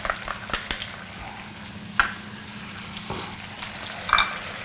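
Shallots and lots of garlic frying in a cup of melted butter for BBQ shrimp: a soft continuous sizzle broken by a few sharp utensil clinks and pan knocks, no talking.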